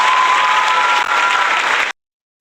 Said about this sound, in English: I guess that's Bernd clapping himself there